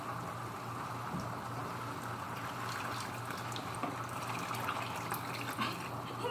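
Water poured into homemade spaghetti sauce in a pan, a steady continuous splashing and trickling wash that runs the whole time, fairly close and even in level with no voices.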